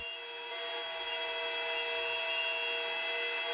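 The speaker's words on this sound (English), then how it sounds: "So I ran the boards through the planer again, the same pine boards" A thickness planer feeds pine boards in a woodworking shop, giving a steady high whine with strong sustained tones, a continuous mechanical drone at moderate level with no talking.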